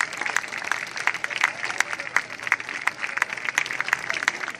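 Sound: audience applause for majorettes

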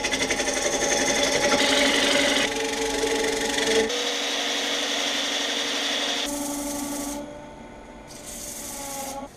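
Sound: spindle gouge turning tenon off maple bowl on wood lathe

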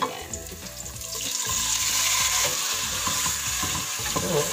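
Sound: chicken breast meat sizzling while frying in a pan

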